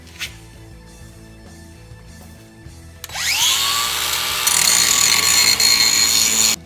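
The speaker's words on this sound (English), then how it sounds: "We're gonna do a little grinding." A grinder works on a steel front bumper bracket for a Toyota 4Runner: quiet shop noise first, then the tool spins up abruptly into a loud, steady, high-pitched whine of grinding metal that holds to the end.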